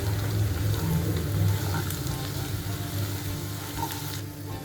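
Potato bhaji with fresh coriander leaves being stirred in a frying pan, a steady hiss of frying with soft scraping from the stirring, close and continuous throughout with no talking.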